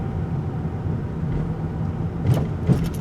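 A 2023 VW Jetta 1.5T SEL rolls over a big, nasty road bump, two dull thumps coming through the steady low cabin road rumble near the end.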